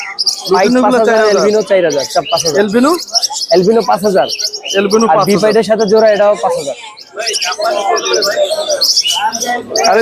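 Lovebirds chirp and tweet in a busy bird market at Mirpur while people talk loudly over them throughout.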